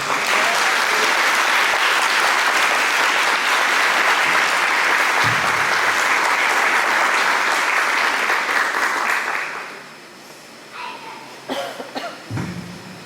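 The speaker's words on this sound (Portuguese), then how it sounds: "Aplaude a Jesus nessa noite." A church congregation applauds Jesus during an evening service, loud sustained clapping for about nine seconds that fades out, followed by scattered thumps, a cough and low room noise.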